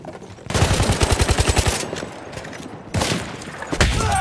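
Rapid bursts of automatic gunfire in Battlefield 1, a fast rhythmic rattle of loud shots lasting over a second, then a pause and a second heavy burst with more shots trailing.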